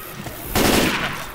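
Gunfire rings out in the Left 4 Dead 2 video game, a loud burst of shots that begins abruptly after a brief quieter lead-in.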